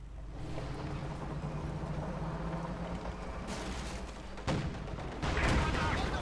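Anti-tank guns fire in the real-time strategy game Company of Heroes 2, including a Pak 40, with sharp booming shots and rumbling battle noise under a commentator's voice.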